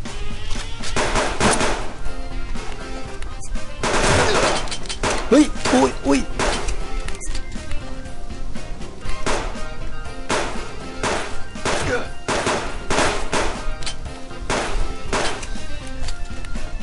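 Shotgun blasts in the survival video game Subsistence ring out as a series of loud, sharp booms at irregular intervals, with a man's startled exclamations over them.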